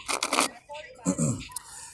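Tarot cards riffled and shuffled by hand outdoors near water, a few quick papery bursts close up, with a voice speaking over part of it.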